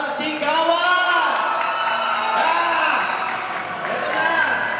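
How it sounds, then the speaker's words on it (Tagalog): A live audience at the grand finals of The Voice of Pangasinan 2019 singing competition cheers loudly, with sustained yells and whoops swelling and overlapping throughout. "pumalakpak naman kayo ng may kahalang sigawan!"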